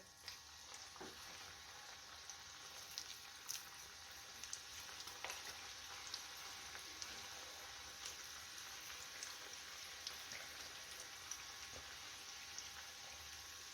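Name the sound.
crab-shaped bhaji fritters frying in oil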